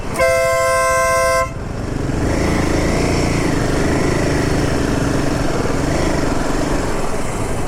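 A group of ten motorcycles riding through the busy streets of Medinipur town, opening with a loud sustained horn blast, then a steady close engine roar with rising and falling revs.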